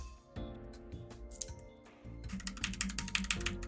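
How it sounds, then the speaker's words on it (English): A computer keyboard key is pried off and handled, giving faint clicks and plastic rattles that turn into quicker, denser clacking near the close, with no talk. "I just took off a key from my keyboard."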